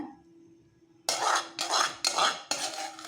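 Cooled rice is folded into mint masala in a pan, heard as four loud, scraping spoon-and-pan strokes in quick succession after a brief quiet moment.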